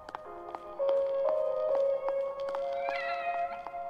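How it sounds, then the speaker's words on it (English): Cat in The Evil Within video game lets out a long, drawn-out meow with wavering pitch, fairly loud and close, over light tapping sounds from the game. "That's cat."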